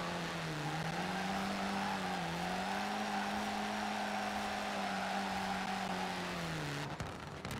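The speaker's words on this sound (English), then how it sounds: "Sixth gear drifting right now." A drift-build car slides in sixth gear in Forza Horizon 4. Its engine holds a loud, steady high-rev drone with slight pitch dips throughout, then cuts off abruptly just before the end.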